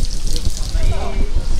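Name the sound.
strong water flow from opened tap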